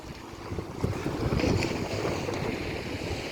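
A ferry arriving at the harbour from Pulau Aceh, with a steady engine and water wash heavily buffeted by wind noise on the microphone, continuous throughout.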